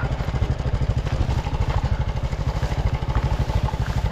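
A motorcycle caught on a muddy road chugs with a loud, close, pulsing engine beat throughout, low and steady with some clatter while it is pushed.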